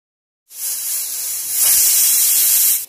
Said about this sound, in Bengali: তো একটা সিটি পড়ে গেল, গ্যাসটা আমি বন্ধ করে দিলাম।